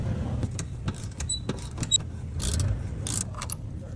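Loosening a strut nut on a Ford Ranger front suspension with a spinning stud, close metallic clicks, clinks and short ratcheting taps over a low background hum, irregular and fairly loud.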